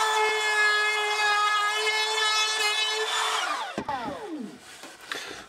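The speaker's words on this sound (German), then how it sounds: "die Kante hier richtig scharf, deshalb machen wir das mit der Kantenfräse schön rund" An edge router rounds over a sharp wooden edge on a wooden cross vise: a steady, high whining spin holds for a few seconds, then winds down with falling pitch among a few soft knocks.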